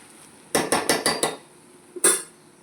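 A metal pot lid clatters against the rim while sabudana khichuri cooks: five quick, close clinks in an even rhythm, a short pause, then one more sharp clank.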